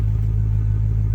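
A Chrysler 300C with a custom-fitted exhaust idles close by, giving off a deep, steady low rumble with a slight pulsing throb.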